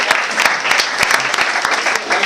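A competition audience breaks into loud, close applause for a contestant, dense clapping with sharp individual claps standing out. A voice briefly speaks over it.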